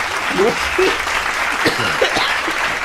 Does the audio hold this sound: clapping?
yes